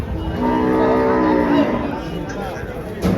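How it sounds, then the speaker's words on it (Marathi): A dairy cow at a cattle market in Dhule moos loudly and close by in one long, drawn-out low call, with faint background noise. "तर या दोन गाई आणलेल्या आहेत बघा"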